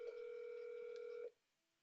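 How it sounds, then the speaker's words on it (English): An inbound call rings in the Fastcall soft phone widget as a steady electronic tone held for about a second and a quarter, then cuts off to near silence. "the call is going to ring in the widget"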